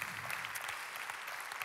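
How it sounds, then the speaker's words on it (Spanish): A church audience applauds, a dense, even wash of many hands clapping at a moderate distance, steady throughout the brief moment. "Si le damos un fuerte aplauso a todas las personas que nos están acompañando en línea"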